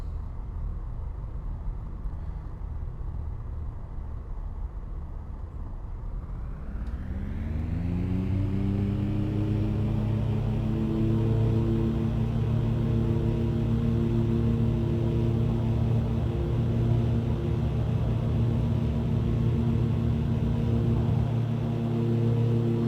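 Simulated aircraft engine in X-Plane 11 spooling up for a rolling takeoff near Nassau, Bahamas: a steady low drone rises in pitch and loudness after a few seconds, then holds as a strong, sustained harmonic roar with no talk.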